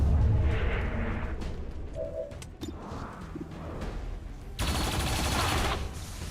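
Turrets fire in XCOM 2, a series of booming shots and rattling bursts spread over several seconds, ending in a loud, sustained blast of noise, with no talk over them.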